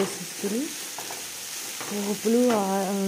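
Tempering spices fry on a high flame in a non-stick pan, giving a steady close sizzle with brief tonal sounds rising near the end.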